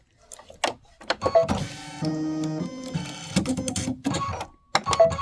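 Domestic sewing machine stitching a cupcake-print bench pillow, a short burst of a few mechanical stitches whirring close up between quiet handling noises, with no talking.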